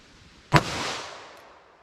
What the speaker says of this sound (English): This gun is shooting all over the place.